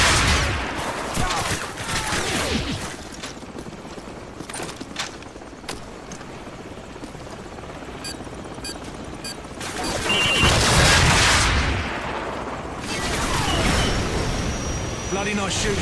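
Gunfire and explosive bursts in Call of Duty Modern Warfare, sounding during a fight against a helicopter with Stinger missiles: loud cracks and booms rise and fall over a constant battlefield din, and voices talk between them.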